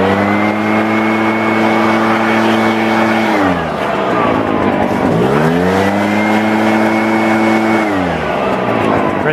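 An Echo PB-500T strato-charged leaf blower engine revs loud and close, holding a high whine, dropping briefly to a lower pitch, then climbing back to full throttle and easing off again.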